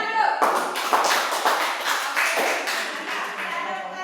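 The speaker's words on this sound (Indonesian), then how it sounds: "Tepuk tangan dulu." Students clapping in a classroom teaching session, a burst of claps with repeated rhythmic taps at a steady beat, with voices mixed in.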